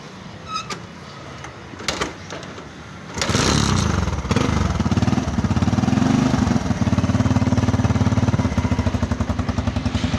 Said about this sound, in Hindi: अभी मैं आपको इसको स्टार्ट करके दिखाता हूँ इसका क्या रिज़ल्ट है